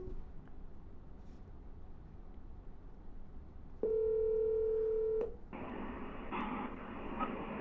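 On a phone line during a cold call, a low hiss runs under a steady telephone tone that holds for over a second, then gives way to a brighter, noisier line signal. No one speaks.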